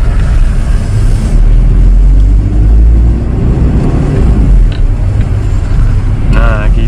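Car engine pulling away uphill in dense stop-and-go traffic, a steady low rumble rising under nearby road noise, with people talking in the car.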